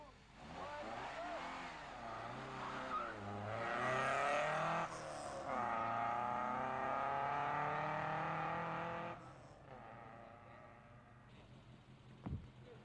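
A classic Alfa Romeo racing car pulls away hard from a standing start, its engine rising through the revs in a loud, sustained howl before easing, with another engine and a brief sharp knock near the end.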